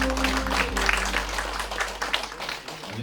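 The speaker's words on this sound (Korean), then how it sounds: "박수 한번 부탁드립니다" Scattered clapping from a crowd at the opening ceremony of a campaign office for a National Assembly election candidate in Gangneung, with a low hum running underneath and faint voices mixed in.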